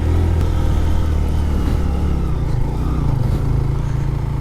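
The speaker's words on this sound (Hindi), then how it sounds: "बाइक इसमें मुसलसल पहले गियर पर रखेंगे।" Motorcycle engine labouring steadily in first gear up a long, rocky hill climb near Khuzdar, a loud continuous drone held close with no break in the sound.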